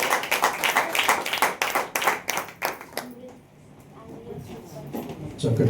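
A church congregation clapping together during worship: dense, loud rhythmic clapping for about three seconds that then stops, leaving quieter room sound with voices.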